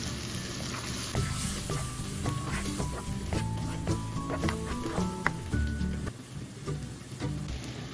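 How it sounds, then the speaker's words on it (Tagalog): Chicken stirred with chicken powder and chicken broth in a pan for a creamy chicken mushroom dish hisses with a steady frying patter and stirring scrapes, close and soft. "Haluin muna natin."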